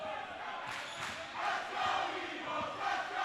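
A basketball crowd cheers and roars steadily through a college game between the West Coast Eagles and Caltech, swelling louder midway, with a dense wash of voices and no distinct bounces.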